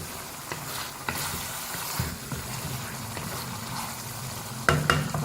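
Potatoes for aloo palak are stirred in a sizzling pan after cooking covered on a low flame, a steady frying hiss broken by scraping strokes of the spoon, with a louder clatter near the end.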